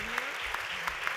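Brief burst of audience applause at a Rapa Nui Pacific Leaders Summit session, a dense steady patter of clapping lasting about a second, with a faint tonal voice-like trace underneath.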